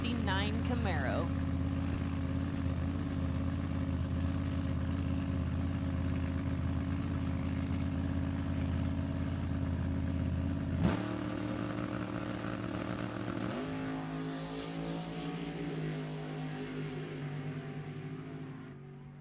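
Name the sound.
drag racing cars, 63 Corvette with 481 Chevy and 69 Camaro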